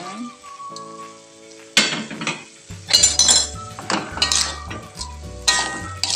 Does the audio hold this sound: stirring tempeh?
yes